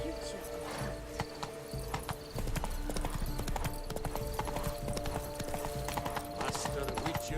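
Horse galloping in the video game The Witcher 3, with a steady rhythmic clip-clop of hooves throughout, a brief neigh and voices talking over the game sounds.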